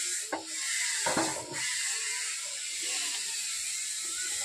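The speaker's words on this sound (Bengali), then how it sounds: "এরকম হাত দিয়ে চটকে চটকে আমি ধুয়ে নিয়েছি।" Raw mangoes are squeezed and washed by hand in a bowl of water, with a few sloshing splashes early on and then a steady, close wet hiss.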